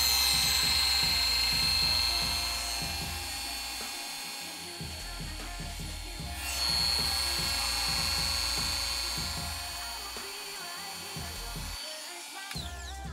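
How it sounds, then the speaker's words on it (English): Oster 76 hair clippers run close by with a steady mechanical buzz and high whine, their motor drone wavering slightly in tone as they are handled. "This is the sound of them. This is what they sound like."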